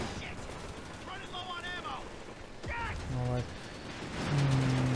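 MG42 machine gun fire in a World War II strategy game comes as short rattling bursts amid distant battle noise and mechanical clanks, with a voice talking over the mix.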